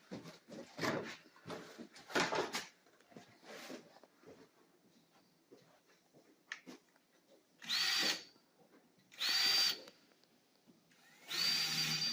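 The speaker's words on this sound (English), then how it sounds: "Again, using that drill bit." A power drill whirs in three separate bursts, each a few seconds long, drilling a hole in a ceiling for a Velux sun tunnel, after some scattered handling and knocking noises.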